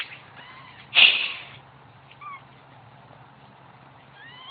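Newborn kittens cry while their mother is away: one loud, close mew stands out, followed by a few fainter high squeaks over a quiet background.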